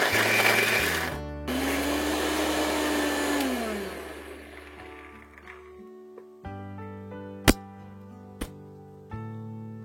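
A loud electric grinder whirs steadily for about four seconds while making a paste for soybean kofta curry, then winds down, followed by quieter clinks and a few sharp knocks.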